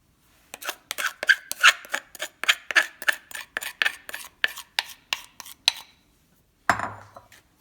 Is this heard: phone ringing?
no